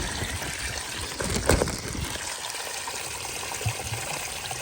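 Water trickles and pours steadily from a non-spring source on a rainy Appalachian Trail day as a hiker fills up, a soft continuous flow with a brief louder splash near the middle.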